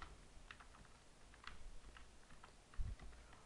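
Typing on a computer keyboard while entering comments in C++ code: scattered quiet key clicks in short bursts over a steady low hum, with one heavier thump near the end.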